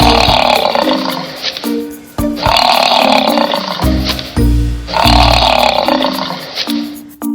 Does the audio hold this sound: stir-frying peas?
no